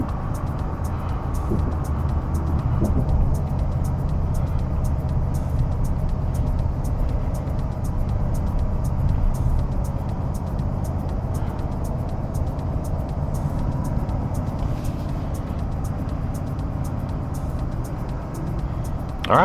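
A 2024 Toyota Tundra TRD Pro truck drives along with a steady, loud engine and road rumble that stays even throughout, with no talk over it.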